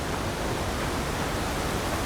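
Steady broadband rush of a waterfall in the fantasy game Avowed, a constant, even roar of falling water with no breaks, heard alone at moderate level.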